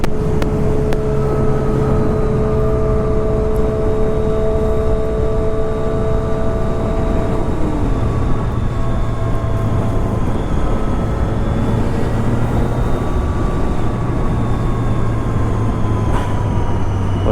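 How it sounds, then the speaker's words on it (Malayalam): A Triumph Trident motorcycle fitted with an aftermarket exhaust gives a loud, continuous engine drone with a steady tonal whine that slowly shifts in pitch, heard without any talking. "അത് ട്രൈഡൻ്റ് ആയിട്ടോ, അതിന് എക്സോസ്റ്റ് കയറ്റിയുണ്ട്,"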